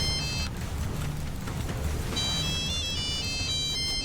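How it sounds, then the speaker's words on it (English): Satellite phone ringing as a sound effect from Jurassic Park 3, with high electronic tones repeating in short ringing bursts over a steady, dense jungle ambience. "I'm talking about the satellite phone,"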